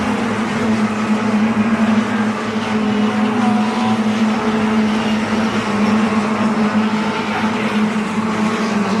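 Mini Miglia racing Minis at Snetterton circuit roar past during a BRSCC race, engines screaming loudly and continuously with shifting pitch as the cars pass close by.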